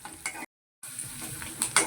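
Tempering (oggarane) frying in a pan for chitranna in a home kitchen, a steady close sizzle with stirring scrapes, briefly cut to silence midway before the sizzle resumes.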